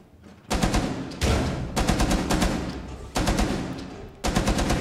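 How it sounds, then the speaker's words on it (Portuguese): Rapid automatic gunfire from the operator Tachanka in the video game Rainbow Six Siege, several loud sustained bursts separated by short pauses, fairly close. "A Chanka tá mandando tiro não sei aonde"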